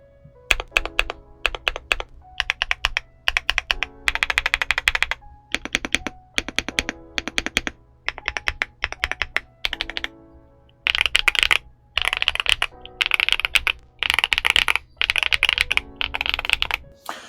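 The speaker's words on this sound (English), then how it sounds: "just to get a quick idea of what this keyboard sounds like" Rapid typing on a Yunzii AL68 aluminium mechanical keyboard in bursts of clacky, poppy keystrokes, close and crisp, with brief pauses between runs.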